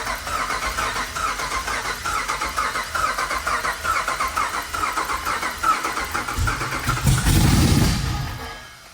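A 2014 Jeep Grand Cherokee V8 cranking on the starter with low compression, an uneven rhythmic chug that speeds and slows in a repeating pattern for several seconds, then a louder surge before it stops.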